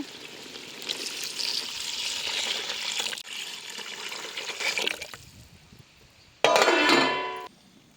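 Water pours into a pot of chopped mutton with oil and salt for a village-style curry, a rushing splash that swells and fades, then a short louder gush, close and without voices.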